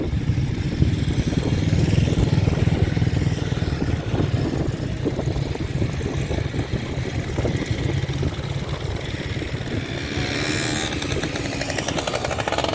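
Vintage motorcycle engines running and revving continuously at an outdoor vintage show, a rough, throbbing roar close by with no pauses.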